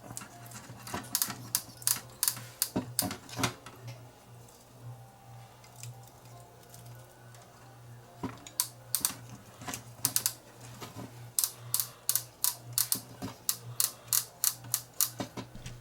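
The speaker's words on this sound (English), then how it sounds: "Let's see if we can wind this tape out by hand." Clicking and ticking bursts in uneven clusters as seized DAT tape is wound by hand out of a Fostex D10 recorder with a jammed capstan, close and fairly quiet over a low steady hum.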